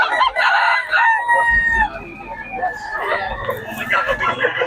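A White Hatch gamefowl rooster crows loudly up close, with clucking and other fowl around it while people talk in the background.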